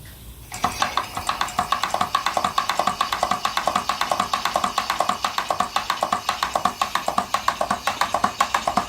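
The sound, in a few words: antique Swift steam-powered boiler feed pump starting up on steam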